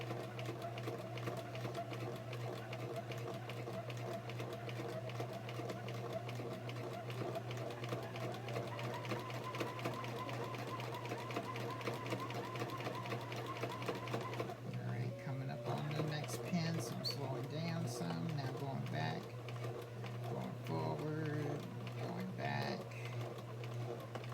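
A sewing machine runs close and steady, stitching backwards and forwards along a seam with a continuous rhythmic whir. Its pace changes slightly partway through as it reverses direction.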